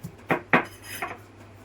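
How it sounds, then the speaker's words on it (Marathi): Garlic cloves crushed with a smooth stone pebble on a kitchen surface, giving three or four sharp knocking thuds at irregular intervals, close and fairly loud, with no talk. "आता मी हा लसूण ह्या एका दगडाच्या गोट्याने ठेचून घेत आहे"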